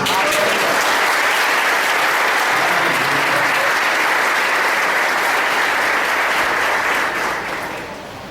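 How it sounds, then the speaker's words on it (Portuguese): A church congregation bursts into loud, dense applause during a celebration service, the clapping sustained and full for several seconds before tapering off at the close. "O Senhor Jesus na vida deles merece aplaudir, não merece?"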